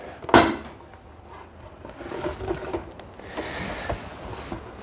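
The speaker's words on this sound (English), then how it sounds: "Now, I'm going to put the door back." A cupboard door is fitted back onto its hinges: one sharp wooden knock near the start, then soft rubbing, scraping and light clicks of hinge hardware close by, with no talking.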